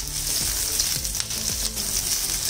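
Chopped onion frying in a spoonful of oil for a cashew curry, a constant bright sizzle with a few soft stirring scrapes, close and steady, no voices.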